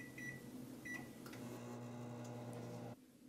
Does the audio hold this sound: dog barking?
no